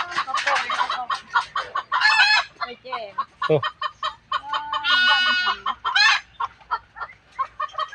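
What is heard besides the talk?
chickens clucking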